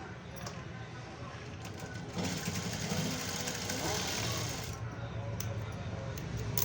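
A sewing machine stitches piping onto a blouse, its motor giving a steady, close whirring hum that swells slightly in the middle, with faint talking in the background.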